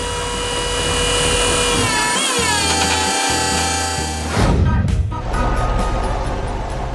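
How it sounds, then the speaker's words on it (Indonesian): A cartoon red excavator works a special saw to neatly harvest crops on a farm, giving a loud, whining, buzzing machine tone that sweeps in pitch, then breaks into a harsher grinding roar. "Ekskavator merah itu menggunakan gergaji khusus untuk memanen tanaman dengan rapi."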